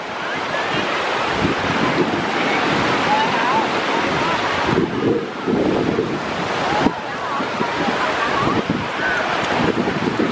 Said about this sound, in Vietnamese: nãy sóng to lắm, giờ như bớt rồi.